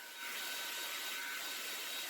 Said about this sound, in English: I'm gonna use an old hair dryer